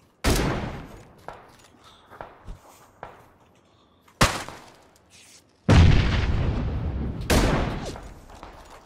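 Grenade blasts in the battle-royale shooter PUBG: PlayerUnknown's Battlegrounds, several sharp loud booms with long rumbling tails, spaced across the stretch, the last two heavy and sustained, with a few softer distant pops between.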